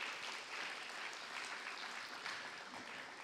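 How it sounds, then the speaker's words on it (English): Audience applause at an awards ceremony during an annual conference, a steady, dense burst of many hands clapping, heard faint and distant over a few seconds. "Let's give David a round of applause as he comes up"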